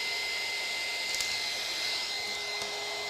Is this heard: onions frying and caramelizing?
no